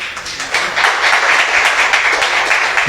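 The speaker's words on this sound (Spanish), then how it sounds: "¿No le quiere dar un aplauso al Señor por eso?" Applause from a church congregation during a Spanish-language sermon: steady, dense clapping that swells after a half-second and holds evenly, fairly loud and close, with no speech over it.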